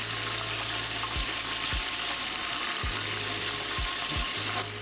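Cinnamon and cloves fry in hot oil for a biryani tempering, a steady bright sizzle with a few soft knocks and stirs, no talking.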